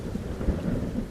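Thunder rumbling with steady heavy rain in a cartoon storm scene: a continuous low roar through the short stretch, with a deeper thunder swell near the middle and no voices.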